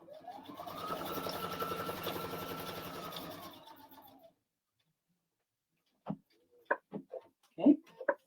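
A sewing machine fitted with a circular attachment stitches in one steady whirring run of about four seconds. It then stops, and after a pause a few faint clicks and handling noises follow.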